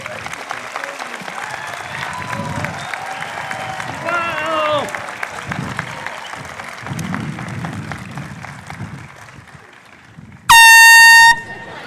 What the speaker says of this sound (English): Please, a round of applause for our graduates.